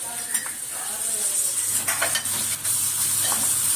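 Finely chopped tomato sautéed in a pan for vermicelli upma, a bright continuous sizzle with a few metallic spoon scrapes and clinks against the pan partway through.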